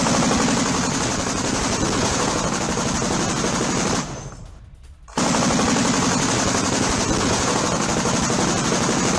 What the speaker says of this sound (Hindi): ट्रेंच के पास यूक्रेनी सेना की आत्मघाती फायरिंग